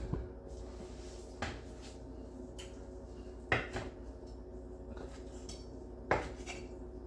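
A knife chops chicken thighs into pieces on a cutting board, giving a few sparse, fairly quiet thuds spread over several seconds against a low steady background hum.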